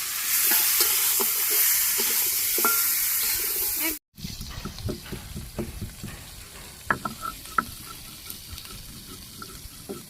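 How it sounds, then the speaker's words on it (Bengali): Meat curry sautéed and stirred in a pan in a Bangladeshi village kitchen, a loud sizzle that cuts off abruptly, then scattered scraping stirs over a quieter background. "কষিয়ে নিই। নাড়া দিই"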